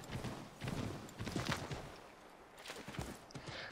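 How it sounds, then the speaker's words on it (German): A horse in Assassin's Creed 3 gallops across open prairie, its hooves beating a steady, soft, rhythmic clip-clop throughout with no voices. "Wir reiten jetzt einfach mal quer durch die Prärie."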